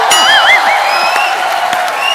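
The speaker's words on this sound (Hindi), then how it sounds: "जोरदार तालियां स्वागत कीजिए सोनाक्षी सिन्हा और जॉन अब्राहम का।" A lively TV studio audience on The Kapil Sharma Show cheers and whoops with scattered clapping, while warbling whistles and tones ring out above the noise.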